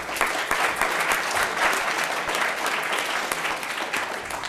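A room full of people applauds six finalists at a business plan competition, dense continuous clapping at a fairly loud level that holds steady throughout.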